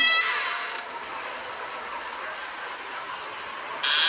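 Steady insect chirping in regular pulses, a cricket-like trill from the game Five Nights at Freddy's 4 repeating evenly over a constant high hiss, with no voices.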